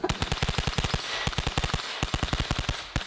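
Rapid automatic gunfire from a real M4-style SMG fitted with a P90-type grip, modeled after the Call of Duty MW2 weapon, firing loud close bursts of many shots with brief pauses between them.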